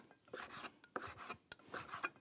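A knife cuts into thin strips with a series of quick, close cuts and rasping scrapes against a board, in an uneven rhythm.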